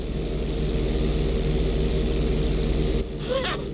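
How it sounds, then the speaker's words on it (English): A propeller plane in GTA V flies with a loud, buzzing engine that throbs on a steady beat, then drops back sharply near the end while a brief rising electronic chirp sounds. "Level out the plane."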